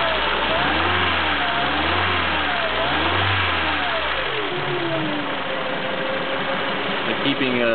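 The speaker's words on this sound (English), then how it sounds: "When I rev the engine up, you'll see that the foam scrunchie works really pretty good." A car engine fitted with an HHO conversion is revved repeatedly, rising and falling in three or four close, loud surges before settling into a steady higher idle.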